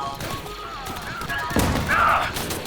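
Battle gunfire from a Star Wars: Galaxy at War custom mod clone wars base defense. Scattered blaster shots and thumps sound over a busy, noisy background of combat, with a sharper burst near the end.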